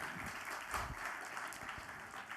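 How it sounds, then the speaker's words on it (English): Applause from a conference audience greeting a keynote speaker on software-driven futures, a steady, fairly faint wash of many hands clapping throughout. "Ladies and gentlemen, a huge round of applause."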